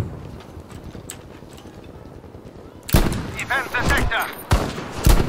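Gunfire in the shooter game Battlefield V with a Krag–Jørgensen rifle in play: after a quiet stretch, sharp shots and bursts erupt loudly and repeatedly, mixed with battlefield noise.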